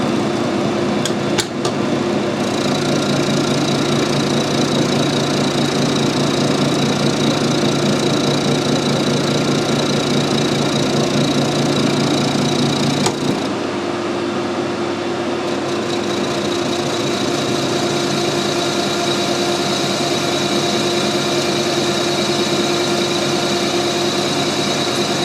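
Hexagonal stainless steel bar being turned to round on a lathe with a carbide-tipped tool in one interrupted cut, a loud, steady machine drone with a fixed whine and rapid knocking, shifting slightly partway through.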